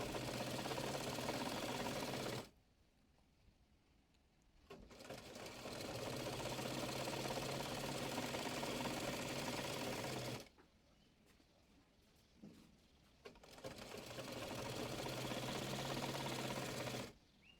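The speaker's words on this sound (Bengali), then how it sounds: "এরপর প্লাজোটির মোহরি মুড়িয়ে সেলাই করে নেব।" Sewing machine stitching the folded hem of palazzo pants, a steady close mechanical whirr in two long runs separated by quiet pauses.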